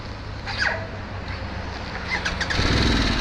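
A Harley-Davidson Sportster S motorcycle engine whirs briefly as it starts, then settles into a steady, rumbling idle close by.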